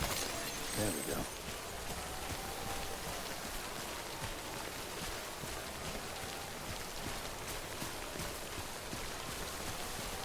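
Timefall rain in the video game Death Stranding makes a steady, dense hiss of rainfall that runs without a break throughout.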